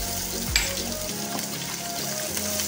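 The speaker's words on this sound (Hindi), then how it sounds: "जी अब यहाँ पर तकरीबन 2 से 3 मिनट फ्राई करने के बाद प्याज हमारे सॉफ्ट हो गए हैं" Onions sizzle and fry in a pan with ginger-garlic paste for kadhi, a steady close hiss with stirring scrapes and a brief clatter early on, no talking.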